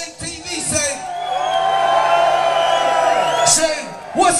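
A concert crowd at a London indoor venue cheers and whoops in a sustained roar with individual yells rising above it, and voices talk nearby over the noise.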